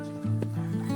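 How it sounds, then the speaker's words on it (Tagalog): A horse near a creek bridge in the Philippine countryside gives a short whinny with a low voiced body, loud and close, while faint background talk continues. "Uy, may kabayo, bro."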